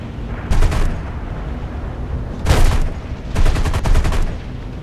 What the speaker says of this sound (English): And then I've got machine guns shooting out of the sides.